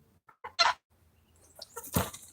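Chickens near a bird feeder let out a few short, sparse clucks, quiet and close, with stretches of near silence in between.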